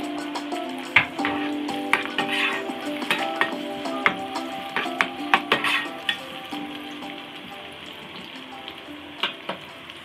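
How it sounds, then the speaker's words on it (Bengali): Chopped onion and garlic frying in a pan, a steady sizzle with scattered sharp crackles and pops throughout, close and alone with no talking. "অনিয়ন এবং গার্লিকগুলো ভালো করে ভেজে নিব।"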